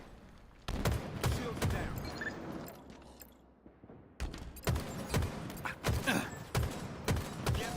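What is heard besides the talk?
gunfire in a Halo video game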